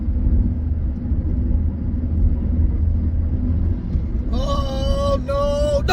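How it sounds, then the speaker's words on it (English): A car engine with a slipping clutch drones in a steady low rumble, with no distinct rise in revs, and a voice cries out over it near the end. "the clutch is slipping"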